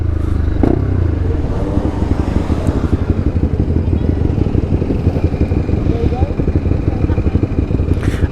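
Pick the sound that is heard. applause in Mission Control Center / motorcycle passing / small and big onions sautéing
motorcycle passing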